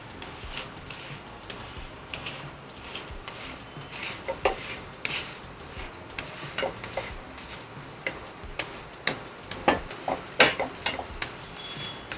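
A coriander paratha made from leftover wheat dough crisping on a hot griddle pan, with close crackling pops and quick scraping or tapping bursts over a low sizzle, and no one speaking.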